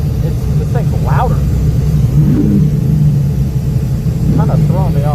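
A loud bracket racing car engine rumbles and revs from inside the cabin, a heavy steady low drone with brief rising rev swells, and a person talks over it.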